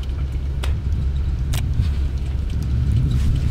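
An old truck driving over rough ground on a South Texas ranch, its engine a smooth, low, steady rumble with cabin road noise and a couple of brief rattles.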